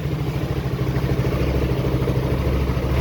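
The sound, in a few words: Yamaha X-Max scooter engine running after starting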